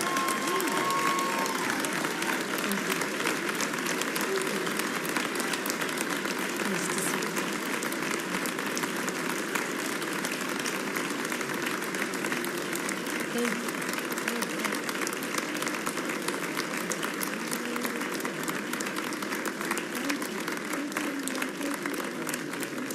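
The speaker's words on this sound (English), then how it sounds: "Ladies and gentlemen, another round of applause for Governor Michelle Lujan Grisham." Sustained, dense applause from the audience filling a hall after the 2025 New Mexico State of the State address, steady and loud throughout with faint crowd murmur beneath.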